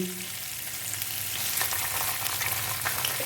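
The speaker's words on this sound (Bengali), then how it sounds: "এবার একটু ভেজে নিয়ে আদাটা আর কাঁচা লঙ্কাটা" Ginger and green chilli frying in a pan while being stirred, a steady close sizzle with scraping stir noises growing busier toward the end, no talk.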